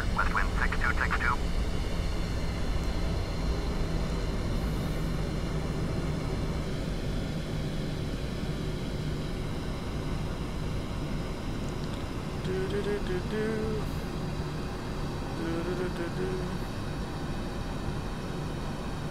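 A twin-engine airliner takes off from runway 36 centre at Memphis, heard from the cockpit as a loud, steady engine roar and broadband rush that persists throughout, with a brief faint radio chirp early on.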